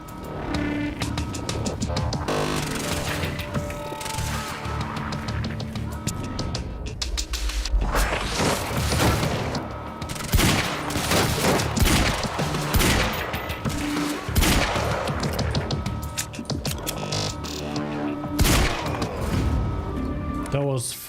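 Rapid gunfire in a shooter video game, with repeated bursts of shots and occasional impacts packed densely throughout, loud and close, while game voices talk over the action.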